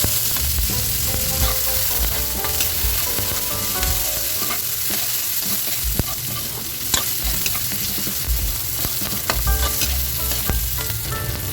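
Garlic and onions fry in cooking oil for a pork spare ribs caldereta, a loud, steady sizzle with scraping stirs and clinks running throughout, no voices.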